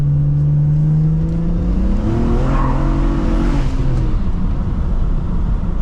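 A struggling drift car's engine and turbo make odd noises, a loud, sustained droning whine with shifting pitch that rises and falls as the engine revs, close and constant throughout.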